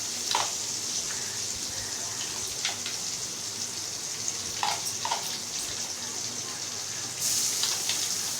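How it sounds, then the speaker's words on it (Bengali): Chopped onion fries lightly in a pan for chicken curry, a steady close sizzle with occasional crackles and soft clinks of a utensil, holding a constant level throughout. "পেঁয়াজটাকে আমি হালকা ফ্রাই করে নিচ্ছি।"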